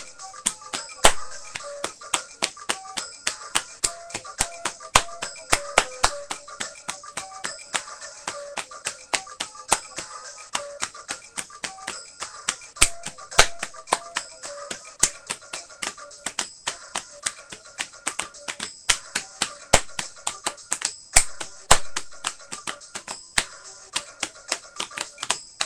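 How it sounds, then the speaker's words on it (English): Rapid, steady hand clapping keeps a quick, even rhythm for the whole stretch, each clap a sharp, close snap over a faint continuous musical backing. "Start clapping."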